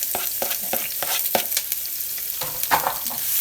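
Onion frying in hot oil over a medium-high flame for chilaquiles, a continuous close sizzle broken by repeated spatula stirs and scrapes against the pan; no voices.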